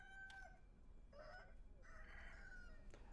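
Chicken clucks and crowing calls in the video game Sekiro: Shadows Die Twice come in a few short, faint bursts of varied pitch, separated by quiet gaps.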